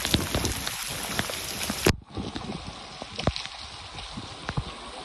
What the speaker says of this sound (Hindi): बड़ी बारिश यार, बड़ी